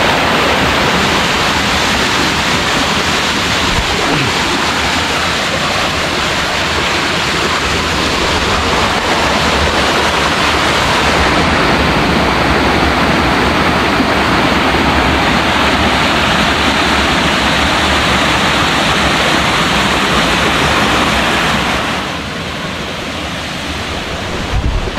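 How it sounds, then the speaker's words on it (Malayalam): Steady, loud rush of a waterfall stream tumbling down rocks in the Nilgiri hills near Padanthorai, Gudalur, a continuous broadband roar filling the whole stretch with no speech. "നേരെ വെള്ളം ഇങ്ങനെ ചാടി ചാടി അങ്ങനെ പോകുന്നു താഴെ വയലേക്കൊക്കെ"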